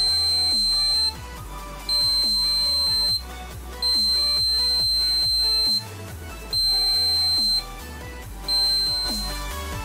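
A homemade magnetic door alarm built from a brushless fan sounds off in repeated loud, steady electronic buzzing bursts of about a second or two each, separated by short gaps, with a low hum underneath.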